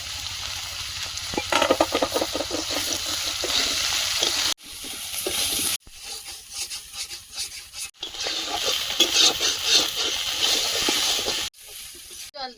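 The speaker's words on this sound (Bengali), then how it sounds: "আলুটা ভাজা ভাজা হয়েছে সয়াবিনটা দিয়ে দেবো" Potato and soybean chunks frying in a pan over a clay wood-fired stove, a steady close sizzle broken by stirring scrapes and several abrupt cuts.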